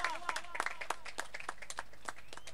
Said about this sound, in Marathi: टाळ्यांचा कडकडाट व्हायला हवा.